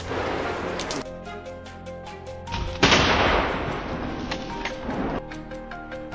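A single loud, sharp gunshot cracks out during a wild boar hunt in hilly country, followed by a rumbling decay and a few smaller knocks.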